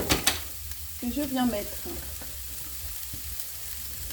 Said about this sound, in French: à rissoler dans de l'huile d'olive